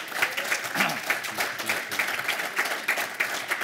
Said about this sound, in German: Geben wir mal einen Applaus.